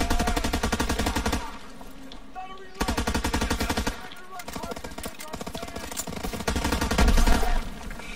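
Rapid automatic gunfire from GTA V Online, sustained loud bursts of machine-gun fire that pause briefly around two and four seconds before resuming, with a voice talking over the shooting.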